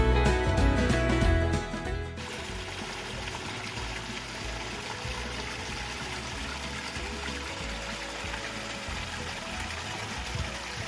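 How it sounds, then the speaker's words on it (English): A waterfall on the Well Gulch Nature Trail in Lory State Park makes a soft, continuous rush of falling water. Brief music plays at the start, then the water carries on alone at a moderate distance. "the second stop was this amazing waterfall"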